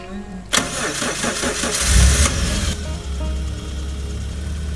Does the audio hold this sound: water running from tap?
no